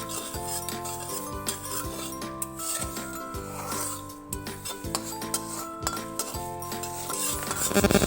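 Dry spices roasting in a hot kadai for an elephant apple pickle, with repeated rough scraping and rubbing strokes of a spatula against the metal pan, steady and close, under a faint tonal background.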